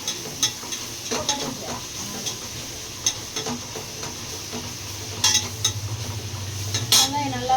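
Onions sauté in a pan for vegetable biryani, a close, steady sizzle punctuated by repeated spatula clinks and scrapes against the metal pan.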